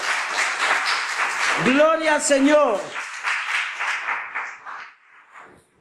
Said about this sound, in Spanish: Denle un aplauso fuerte